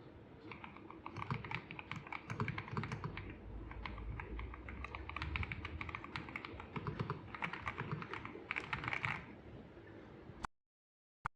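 Steady fast typing on a custom-built mechanical keyboard with RGB lighting, dense clacking keystrokes close up and alone, running continuously before stopping abruptly near the end.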